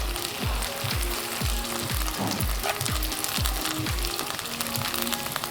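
Onion and capsicum fry hard for veg chowmein, a dense close sizzle with quick regular scrapes of a spatula about twice each second.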